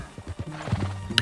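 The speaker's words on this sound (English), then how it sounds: "Get your horse and let's go." A horse in Red Dead Redemption 2 clip-clops in a quick run of close hoofbeats, then whinnies briefly at the end.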